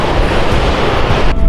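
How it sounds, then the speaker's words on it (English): Stormy ocean waves churn along the Northern California coast under dark, misty, rainy skies, a loud, dense, continuous rumble and wash heard close and without any voices. "I love the ocean on days like today. It's just churning like a maelstrom."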